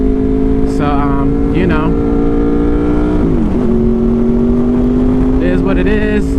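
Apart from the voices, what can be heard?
Honda VFR800 motorcycle being ridden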